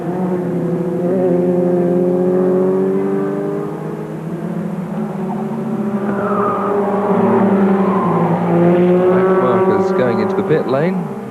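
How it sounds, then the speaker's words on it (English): Formula Ford 2000 race cars scream past at Brands Hatch in a 1987 race, engines droning loudly and continuously with shifting pitch as two run closely together, while a commentator talks over them. "Identical cars at an identical speed at the moment."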